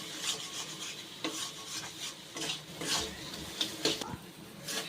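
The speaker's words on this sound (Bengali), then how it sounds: "এবার এই সব দিয়ে খুব সুন্দর করে কিন্তু এই মশলাটাকে আমি কষিয়ে নেব" Spice masala with turmeric being stirred and sautéed in a pan for sama rice khichdi, quiet scraping and rubbing strokes of a spoon with faint sizzling, in irregular bursts close by.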